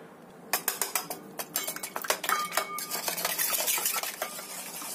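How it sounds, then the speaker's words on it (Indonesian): Seasoning such as mushroom stock powder being whisked into a batter mixture in a bowl, a steady run of quick metal-on-bowl taps and scrapes with a few clinks, close and clear with no talking. "Kita kocok sampai kecampur rata semuanya."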